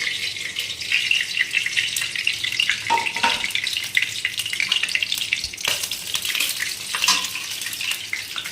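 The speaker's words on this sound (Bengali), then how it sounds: "এটা ফাটছে, একটু গরম হোক" Oil with whole spices crackling and popping as it heats in a pan, a dense continuous sizzle with sharp pops scattered throughout, loud and close.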